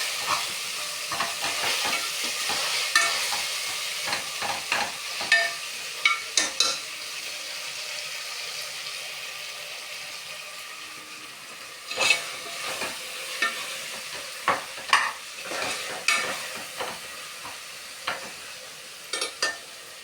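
Chicken biryani masala being stirred in a pan, with a steady hiss of frying under repeated clattering scrapes of a spoon that come in bursts, then pause, then resume, close and clear with no speech.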